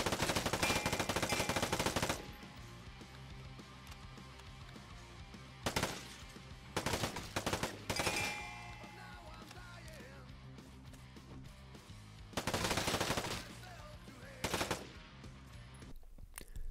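Bursts of M4 rifle fire from the video game Vigor ring out in several loud volleys, each lasting one to two seconds, separated by quieter stretches of background game ambience.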